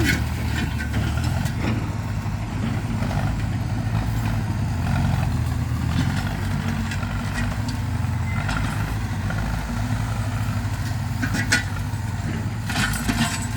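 A Ford 6610 tractor idling outdoors while clearing brush, a steady low diesel rumble running throughout with faint rattles and clicks on top, no talking.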